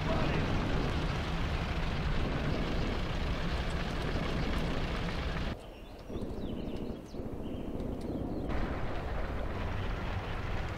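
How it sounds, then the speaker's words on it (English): Dense, loud roar of MG-42 machine gun fire and battle noise in the Tank Warfare: Tunisia 1943 game at Chouigui Pass. It runs nearly continuously, with a brief dip partway through before the barrage resumes. "MG-42s by the sound of it."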